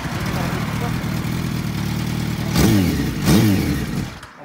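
Engine of a 2004 Yamaha R1 motorcycle with a rattly low-rev sound, a close, loud, rough idle with two quick revs near the end, heard under people talking.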